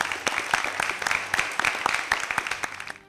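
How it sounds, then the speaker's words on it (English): Audience applause for six schools on stage at a televised school competition, brisk, dense clapping with sharp individual claps audible through the crowd, steady for about three seconds then cutting off. "Let's give them a well-deserved round of applause."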